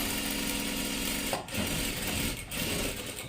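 A sewing machine runs steadily, double-stitching a seam on a salwar, its fast continuous whir broken by two brief pauses as the fabric is adjusted.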